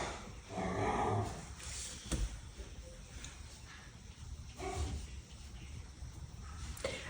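Three dogs playing indoors, with yips, whimpers and scuffling rising and falling at moderate loudness in a house.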